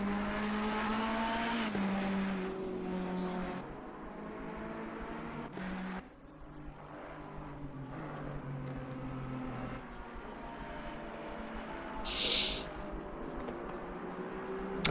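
Race cars in the video game Assetto Corsa Competizione drone and rev in a pack along the track, a fairly faint, continuous engine hum that swells and fades as a whole row of cars battles for third place.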